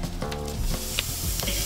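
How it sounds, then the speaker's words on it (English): A tomahawk steak sears on a kettle grill, giving a steady close sizzle and crackle with small pops and faint clinks, with no talk. "we're just gonna throw it on our kettle here."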